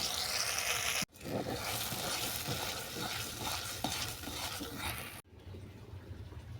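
Jackfruit seeds frying in melted butter in a pan, a steady loud sizzle with scraping stirs throughout, cut off abruptly near the end where it drops to a quieter hiss.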